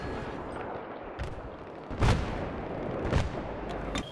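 Mortar rounds fired from an APC in Battlefield 3, about four heavy booms spaced a second or so apart over constant battlefield noise.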